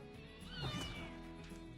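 A single cat in a Superman cartoon lets out one faint, drawn-out meow over quiet background sound.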